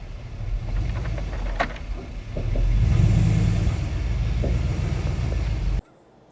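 A car with a 4T65E automatic transmission shifted manually by joystick is driven on a test drive, its engine rumbling and revving up through the gears, loud and close, before cutting off abruptly near the end.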